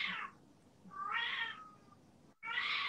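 A cat meows three times, close and fairly loud, each drawn-out call separated by a short pause, over a faint steady background hum.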